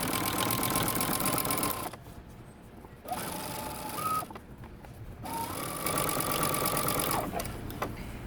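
Sewing machine stitching a skirt hem close to the edge, a loud steady whirring run that stops and restarts several times, with brief quieter gaps where the fabric is handled.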